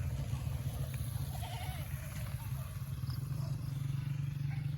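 A goat bleats on a farm, a few short wavering calls at mid-distance over a steady low hum, with faint voices nearby.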